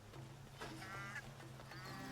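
Geese honking in Horizon Zero Dawn, a few quacky calls over a steady low in-game ambience, moderately faint and without talk.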